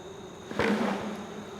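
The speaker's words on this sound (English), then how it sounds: "so we got to get these bees into the bucket. We'll just do a little shake." A soft thump, then a sudden swell of loud, close buzzing as a mass of honeybees drops into a bucket.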